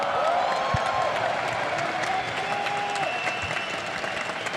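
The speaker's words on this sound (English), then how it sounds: "of course they were cheering for you guys as well" A crowd of German fans at a League of Legends spring finals applauding and cheering, a dense steady wash of clapping from a large audience, with faint voices calling out over it.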